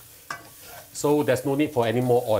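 Deep-fried pork ribs are tossed with salt and white pepper in a dry pan, giving soft scraping and rustling stirring sounds that run under a man's clear speech for most of the moment.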